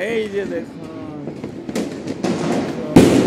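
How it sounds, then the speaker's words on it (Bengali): Fireworks go off over Dhaka during a New Year celebration, with a voice talking at the start before a series of bangs and crackles that ends in a loud close burst. "ফানুস উড়ে আতশবাজি উড়ে এই যেন এক আকাশের বুকে"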